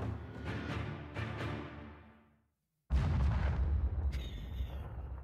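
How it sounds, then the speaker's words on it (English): Loud booming explosions in two bursts separated by a brief silence, the second louder and heavy in the low end, with a higher crackling layer joining near the end. "The explosions are so loud."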